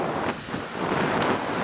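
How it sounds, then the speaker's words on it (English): Strong wind gusts buffet the microphone outdoors at Mote Park on a rainy summer day in the UK, a steady, loud rushing roar with brief lulls, no talking. "It's very windy."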